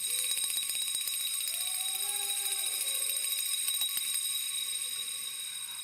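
Handbells rung loudly together by a crowd at the Purdue Memorial Union centennial celebration, a dense bright continuous ringing that holds steady and eases slightly at the end.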